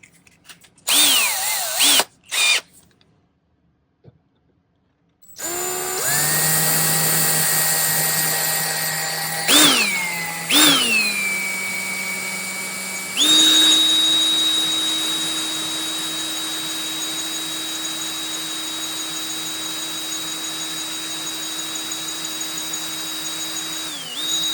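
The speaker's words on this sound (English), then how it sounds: "this will do pretty well to drill out that center point" A rotary drill bores out the center of a silver porthole ring in silversmithing work, starting with short bursts, then running as a loud, steady high-pitched whine that shifts pitch as it bites and slows, close and alone.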